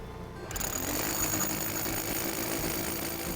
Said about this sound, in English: You can just drill a hole right there.